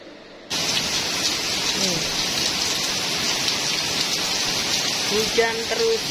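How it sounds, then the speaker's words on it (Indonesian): Heavy rain pours down on a village in Hong Kong, a steady loud hiss of drops on surfaces throughout, with someone talking briefly over it near the end. "Hujannya semakin sore semakin lebat ini teman-teman ya."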